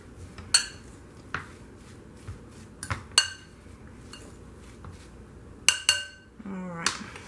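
Salmon cake mixture with egg being mixed in a bowl, heard as scattered clinks and scrapes of a utensil against the bowl, irregular sharp knocks close by with quiet gaps between.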